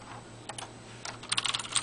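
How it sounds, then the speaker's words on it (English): Keys of an iOne Scorpius 35 PRO large-print mechanical keyboard being typed on, a few soft clicks at first and then a quicker burst of clacking near the end, close up with no voices. "You can type, and you can hear these mechanical keys working"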